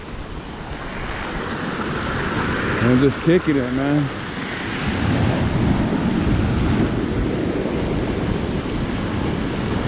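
Ocean surf washing over and draining off rocks at a small cove on the Carlsbad–Oceanside coast of San Diego, a steady broad wash with wind buffeting the microphone and someone talking briefly over it.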